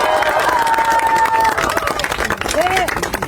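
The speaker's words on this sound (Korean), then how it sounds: "박수 쳐주십시다" At a Korean political party's election campaign launch rally in Busan, a crowd applauds with dense, continuous clapping and some cheering. A voice talks over the noise through a loudspeaker.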